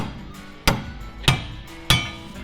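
Three sharp, loud hammer blows strike the steering knuckle of a 2024 GMC 3500 pickup to knock it loose. The metallic hits come about half a second apart, each ringing briefly before fading.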